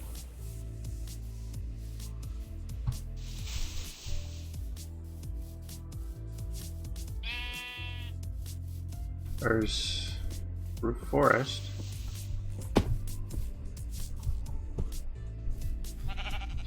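A few Minecraft sheep bleat in the Enigmatica 6 modpack, short wavering calls heard over soft background game music while a person talks.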